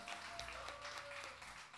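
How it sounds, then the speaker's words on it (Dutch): A crowd at the Popsport Limburg 2018 final applauds a performer, a brief, faint burst of clapping heard at a distance with a steady tone and low rumble beneath it. "Dus een heel groot applaus voor Teun."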